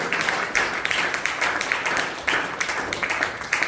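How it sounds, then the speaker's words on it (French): A church congregation at a Pentecost service claps together in a dense, continuous burst of applause, moderately loud and filling the room. "Donnez une bonne main d'applaudissement, Seigneur, ce matin."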